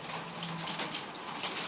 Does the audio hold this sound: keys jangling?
no